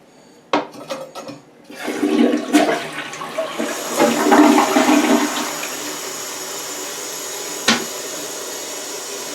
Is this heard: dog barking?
no